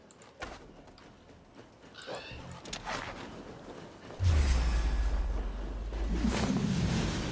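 A horse whinnies in the video game Assassin's Creed Valhalla while being attacked by a wolf, with hoof clops and scuffles before a loud, close burst of rumbling noise takes over the second half.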